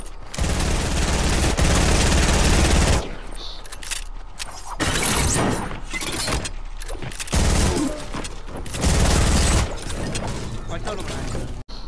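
Bursts of rapid gunfire in the video game Fortnite ring out in several long and short volleys, loud and close, with pauses in between.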